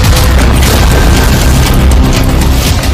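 A loud, sustained booming blast with heavy rumbling fills all three seconds, with no voices, from an attack on Israeli communication systems deployed in a conflict zone.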